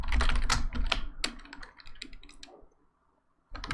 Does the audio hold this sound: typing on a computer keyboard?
yes